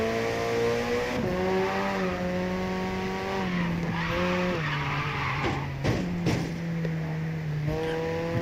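Racing cars in a driving video game, drifting with a sustained whining engine that rises and shifts pitch through gear changes, broken by sharp tire squeals and skids, loud and close with no voices.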